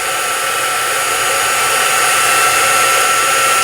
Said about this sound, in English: So it'll take the heat tool just a second to warm up